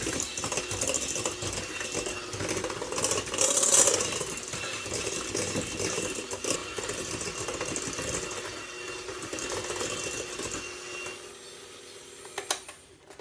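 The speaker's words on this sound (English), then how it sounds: "we're going to mix this all together to get it smooth" Wet ingredients with vanilla for oat bar and cookie batter are mixed with a steady, buzzing mechanical whir that runs for most of the stretch, then eases off near the end before a few clattering knocks.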